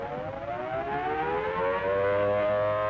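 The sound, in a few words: air raid sirens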